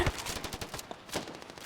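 Rapid bursts of gunfire in an online shooter video game, a quick run of sharp shots in uneven rhythm, fairly close and loud, with no talk.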